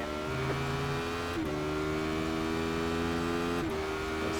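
A Radical race car engine in iRacing at Oulton Park drones loudly and steadily from inside the car, its pitch climbing and then dipping at two gear shifts.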